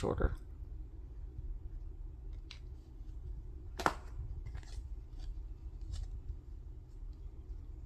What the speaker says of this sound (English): you do want to kind of cut it shorter, because you can just snip it